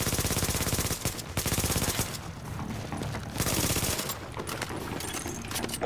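Bursts of MP7 submachine gun fire in the video game Tom Clancy's The Division, rapid repeated shots in several sustained strings separated by short pauses, loud and close.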